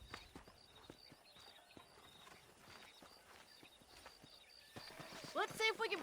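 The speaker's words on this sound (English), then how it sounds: "there's a pack of wild horses nearby" In Red Dead Redemption, hooves clip-clop faintly under quiet ambient sound, then a wild horse whinnies near the end, shrill and fairly close.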